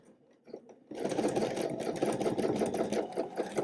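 A sewing machine stitches a Cashmerette Hampden dress, starting after a moment of quiet handling and then running in a steady, close, rapid whir until the end.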